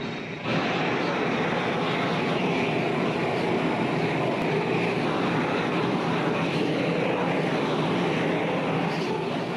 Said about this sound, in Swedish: vi bränner på med gasolen lite först så vi får lite värme i det